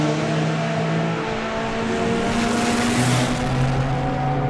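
Four-cylinder and three-cylinder drag racing motorcycles at a drag racing meet, engines droning loud and steady with strong harmonic tones, the pitch stepping up near the end as they run.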